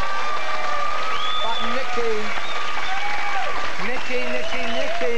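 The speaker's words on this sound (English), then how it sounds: "He gets a round of applause." Studio audience applause on a 1997 UK television show keeps up as a steady wash of clapping beneath presenters talking over it.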